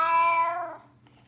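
A single drawn-out meow, bright and close, fading off toward the end; no other sounds around it.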